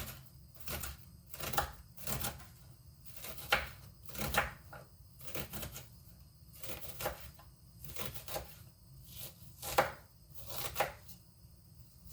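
A knife dicing a quarter of a medium onion on a cutting board, a steady run of crisp, close chopping taps at an uneven rhythm, with no talking.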